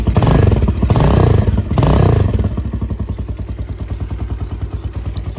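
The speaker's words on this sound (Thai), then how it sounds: "ขยายมันขยายรูมาให้มันเสียงเพาะขึ้นนะมันพุ่มขึ้น" A 2013 Keeway 200cc motorcycle with a modified, widened exhaust revs loudly a few times up close, then settles into a throaty, pulsing idle.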